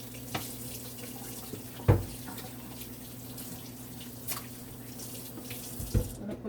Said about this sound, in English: let me wash my hands and dry it for the black pepper